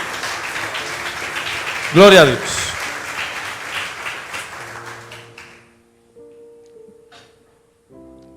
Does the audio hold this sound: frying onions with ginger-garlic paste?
no